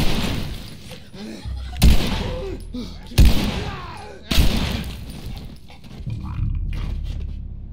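Gunfire in The Last of Us comes as three sharp, loud shots a second or so apart. Rumbling movement and dull game noise fill the gaps, and a low hum is left after the last shot.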